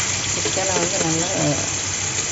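Chicken marinated in chili powder, ginger-garlic paste, vinegar and salt sautés in a pan, its steady sizzle running under a person speaking.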